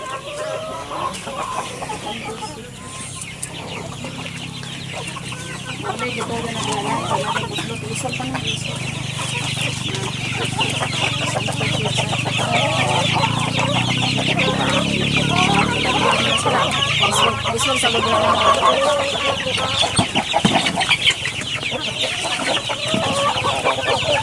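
Young chicks cluck and peep in a dense, continuous chorus close by, with no voices and a faint rooster crow somewhere in the mix.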